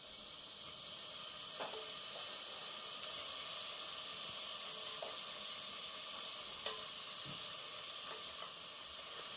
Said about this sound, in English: you fry it for about 30 seconds before you add the coconut milk